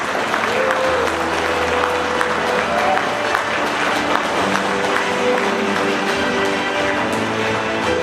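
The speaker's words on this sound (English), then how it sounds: "Please give it a big round of applause." A large crowd applauds at a film and music awards ceremony, sustained and loud, with a few faint cheers mixed into the even roar of clapping.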